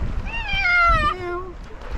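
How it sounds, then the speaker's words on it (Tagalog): A single drawn-out cat meow, close and fairly loud, rising then falling in pitch over about a second, heard outdoors with soft background noise and no talking. "Meow."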